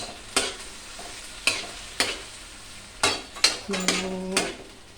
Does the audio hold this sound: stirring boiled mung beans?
yes